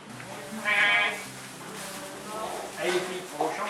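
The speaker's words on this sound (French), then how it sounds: "nous suivons les chèvres qui vont sortir au champ" Goats bleating on a sunny November day as the herd heads out to pasture on a farm, several calls rising over steady human talk close by.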